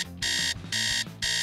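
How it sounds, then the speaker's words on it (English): A phone alarm rings in loud repeating electronic bursts, three long beeping pulses separated by short gaps, clear and close with no voices over it. "she didn't hear her alarm on her phone ringing"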